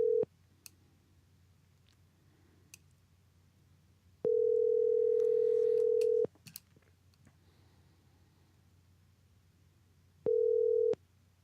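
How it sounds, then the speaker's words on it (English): Telephone ringback tone on a call into a radio talk show, heard as steady electronic tone bursts about two seconds long with a roughly four-second silent gap between them, with faint line noise and clicks in between. "So we're gonna give it a shot and see if we can get Gilby on the phone real quick"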